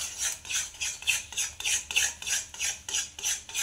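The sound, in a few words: stirring cake batter in a pan on the stove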